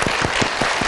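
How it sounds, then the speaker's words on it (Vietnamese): Game show studio audience clapping together, a dense continuous burst of applause with a few louder claps standing out, close and lively throughout the short moment. "Một tràng vỗ tay để chính thức vào vòng 2."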